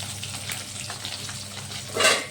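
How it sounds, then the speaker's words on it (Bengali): Pieces of rui fish frying in hot oil while being cooked for a fish curry, with a steady close sizzle and crackle throughout and a louder, brighter spatter burst near the end. "এই সাইডটাও ভালো করে আমি ভেজে নেব"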